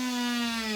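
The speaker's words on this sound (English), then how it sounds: "we are going to take your base and drill a hole" A drill whines steadily while boring a hole into the base of a coconut crab glider floor toy, a close, high-pitched continuous tone lasting under a second.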